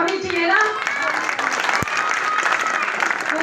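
An audience at a Hindi speech event honouring Sant Ravidas and Sant Gadge Jayanti bursts into loud, sustained applause from a crowd, with a voice speaking over the clapping.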